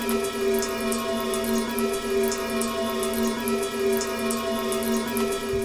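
Water from a kitchen sink tap pouring steadily into a pot, a continuous close rushing stream with a sustained ringing hum from the pot underneath, even in level throughout.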